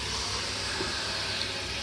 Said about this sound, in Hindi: 10 मिनट आलू को भूनने के बाद मैं इसमें अब डाल देती हूँ पानी।